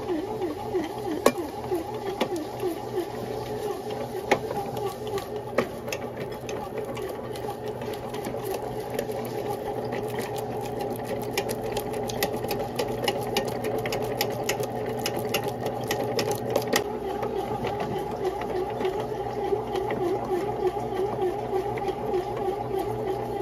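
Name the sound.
bread machine kneading doughnut dough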